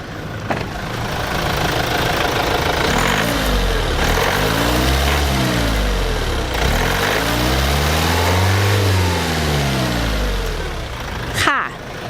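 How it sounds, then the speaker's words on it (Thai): A 2023 Mazda 2 1.5 turbo diesel engine revs up repeatedly at full throttle, pitch rising and falling in strong sweeps over about ten seconds, loud and close. "เดี๋ยวให้ชมพู่เหยียบให้เต็มแรงเลยนะคะ"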